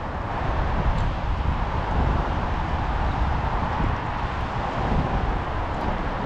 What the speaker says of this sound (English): got a lot of wind picking up here now too